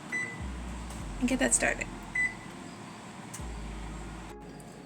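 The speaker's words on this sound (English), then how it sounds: "I'm going to preheat my oven to 350 degrees Fahrenheit" An electric oven beeps while being set to preheat to 350 degrees Fahrenheit in a home kitchen, a short run of electronic beeps followed by a lone tone, with a low hum and quiet speech.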